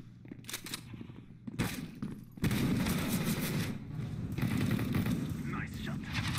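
Rapid automatic gunfire in the video game CS:GO erupts in dense, loud bursts, with a long sustained barrage partway through, while a person talks over the shooting.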